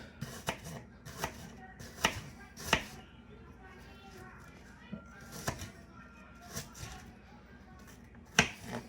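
A knife cuts into an onion on a board, producing sharp, isolated chops in small clusters separated by quiet gaps, fairly close and crisp against a low room background.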